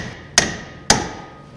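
Two sharp metallic hammer blows on a GM Squarebody truck's ball joint, about half a second apart, each ringing briefly before fading, with no talking.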